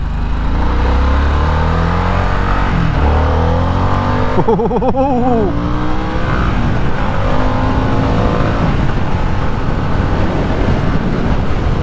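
A 2021 Harley-Davidson Sportster S accelerates on an open road, its engine droning loud and close with rising revs through gear changes, heavy wind buffeting throughout and no speech.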